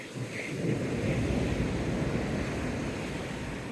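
Ocean surf at Playa Bollullo, Tenerife, rolls in as a steady, loud wash of breaking waves with wind buffeting the microphone, continuous for the whole stretch with no voices.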